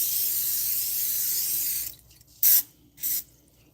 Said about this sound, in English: And you take your spray and you're going to spray your paper.